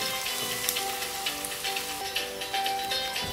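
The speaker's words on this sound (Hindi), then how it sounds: "फिर फाइनली चॉप ऑनियन डालना और ऑनियन ब्राउन होने तक फ्राई करना" Chopped onion fries until brown with green chillies for a tomato chutney with boiled egg, a continuous moderate sizzle with soft, irregular stirring ticks.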